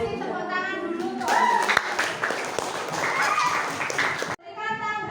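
University class in a simulated Indonesian-language lesson applauding after a student's observation-report presentation, a burst of scattered hands clapping nearby between stretches of talk.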